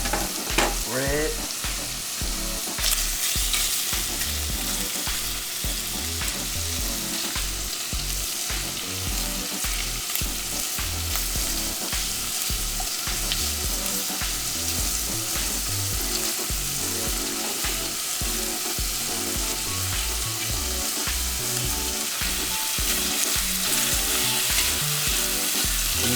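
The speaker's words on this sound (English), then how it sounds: "Saute our shrimp in there, get it nice and" Shrimp saute in a hot pan, making a loud, continuous sizzle that is broken by regular scraping and stirring strokes throughout.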